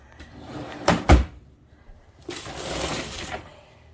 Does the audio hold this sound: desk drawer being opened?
yes